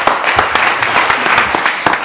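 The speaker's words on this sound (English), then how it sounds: "give one more round of applause for our group" Audience at a Cambridge Works graduation ceremony giving brief applause, with scattered, fairly close hand claps over a soft room murmur.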